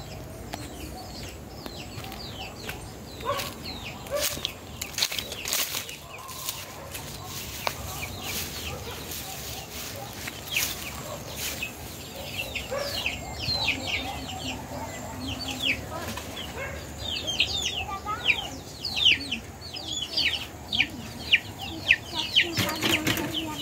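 Chickens and young chicks on a small Brazilian farm keep up dense, overlapping clucks and high peeping chirps, with occasional wing flaps and a voice talking briefly in the background.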